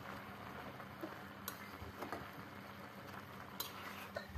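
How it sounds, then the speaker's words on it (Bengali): A spoon quietly stirs spinach (pui shak) dal in a pot, with soft scraping and occasional light metallic clinks over a faint, steady background. "সুন্দর করে ঘুরিয়ে ঘুরিয়ে নেড়ে নেব।"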